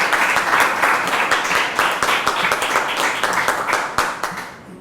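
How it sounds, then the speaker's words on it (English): Audience applause for dancers at a public event celebrating Puerto Rico and New York, a dense, steady clapping from a crowd that holds for several seconds and thins slightly at the end. "let's give another round of applause to our dancers here today"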